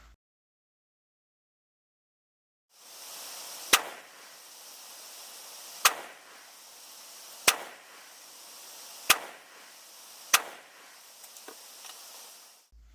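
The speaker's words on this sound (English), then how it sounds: "I just picked an aim point on the target and shot at that" Five sharp 5.56 rifle shots from a Bear Creek Arsenal 16-inch hammer-forged side-charging upper fired at a target in pouring rain, spaced a second or two apart over a steady hiss of rain.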